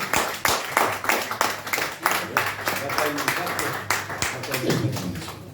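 Audience clapping at a Romanian workshop event, with quick dense broadband hand claps running steadily throughout, close and moderately loud, while a voice talks over them.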